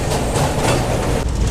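A weekly superfast express train bound from Tatanagar to Bengaluru rumbles past, a loud, continuous roar of wheels and carriages close at hand with a brief shift near the end.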